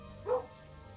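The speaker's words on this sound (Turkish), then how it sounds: "Heh, köpek sesleniyor." A single short dog bark sounds as an attack warning in the video game Kingdom Two Crowns, mid-distance over a steady low in-game ambient hum.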